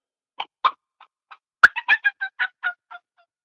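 A person imitates a wild turkey hen's excited fly-down cackle with a call, about a dozen sharp, quick notes in an uneven burst, loud and close against silence.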